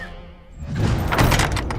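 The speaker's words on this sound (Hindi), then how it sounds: "शर्मिली जाकर दरवाजा खोल देती है" A door opens in an animated Hindi haunted-forest mystery comedy, heard as a thudding, rattling clunk with a broad scrape of movement that swells after a quiet start and carries on to the end.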